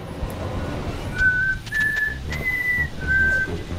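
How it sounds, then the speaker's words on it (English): A video game character softly whistles a nursery rhyme, four short sustained notes over a dense noisy background. "walk around at night just quietly whistling a nursery rhyme"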